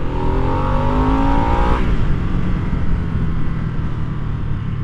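A 2022 Harley-Davidson Nightster motorcycle pulls hard on the throttle, its engine rising in a loud, close rev before dropping into a rougher, steady roar of wind and engine noise.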